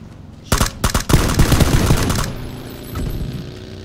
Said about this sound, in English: Shoot him, Carl, if you can.